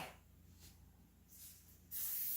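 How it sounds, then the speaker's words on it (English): Cooking spray hisses from an aerosol can onto hands in a kitchen while making pumpkin rice krispie treats, with a soft hiss early, fainter bursts midway, and a loud, close, sustained spray at the end. "spray your hands with some spray"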